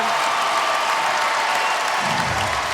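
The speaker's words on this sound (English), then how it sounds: "Crowd goes wild for her." A large crowd at an NCAA women's gymnastics meet between Alabama and Georgia applauds and cheers for an Alabama gymnast during her floor routine, a steady dense roar of clapping and voices throughout.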